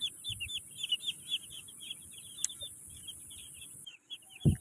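Soft clucking and chirpy calls from a flock of about 220 broiler chickens on a poultry farm, steady and close, with a brief louder thump near the end.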